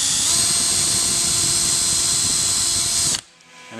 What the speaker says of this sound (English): And it'll just pre-drill a small little pilot.